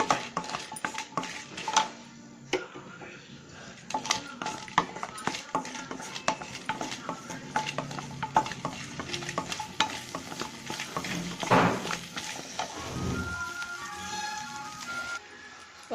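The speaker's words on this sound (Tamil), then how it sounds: "நல்லா வதக்கி விடுங்க." Garlic and dried red chillies sauté in a pan for mint coriander chutney, a moderate sizzle under frequent metallic scrapes and clatters of a spoon stirring against the pan.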